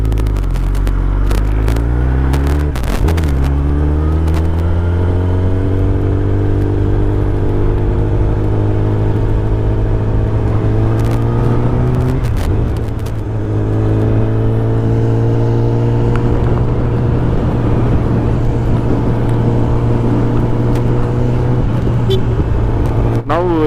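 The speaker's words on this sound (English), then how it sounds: "here the motorcycle is into low power mode" Kawasaki ZX-10R sport motorcycle ridden in low power mode, its engine droning steadily with rising and falling revs through gear changes, wind rush throughout, close and fairly loud.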